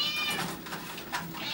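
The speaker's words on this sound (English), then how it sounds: "He's the friendliest cat you'll ever meet." A friendly shelter cat meows several times in quick succession, close to the microphone, with no talk over the calls.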